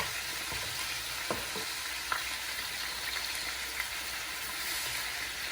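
Turkey necks fry in a very hot pot, producing a steady close hiss of sizzling oil broken by a few sharp pops and clanks as pieces go in.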